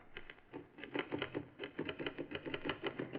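Typewriter keys clatter in a radio drama as a man types at a desk in a large room, a quick uneven run of soft, fairly faint clicks with brief pauses.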